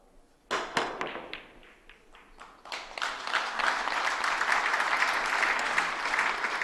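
Audience at a professional 9-ball pool final applauding a shot attempt: a few scattered sharp claps first, then the clapping builds into a steady, moderate round that carries on to the end.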